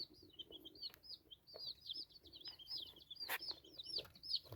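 Brown red game chicks peep in repeated high, shrill bursts close by, with a few louder calls and soft background rustling throughout.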